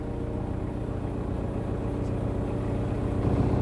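A boat motor runs with a steady, loud, low rumbling drone in the Canadian wilderness, rising slightly toward the end as throttle is added.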